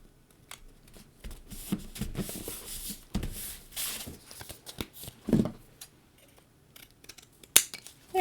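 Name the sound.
scissors trimming a paper card banner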